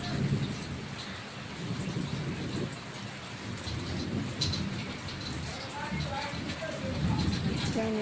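A village rain and thunderstorm: steady rainfall patters throughout at moderate level, with low rumbling swells of thunder rising and falling underneath.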